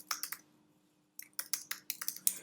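Quiet computer keyboard typing up close, with a short burst of keystrokes, a pause, then a faster run of clicks with no talking.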